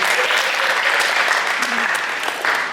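Steady, loud audience applause fills a high school post-prom hypnosis show, continuous clapping from a crowd with voices mixed in throughout.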